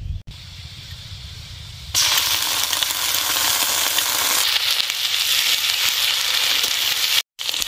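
Ground ginger, garlic and cumin paste hits hot oil in a frying pan with fried onion and chili, setting off a loud, steady sizzle that holds close and continuous for several seconds after a quieter start.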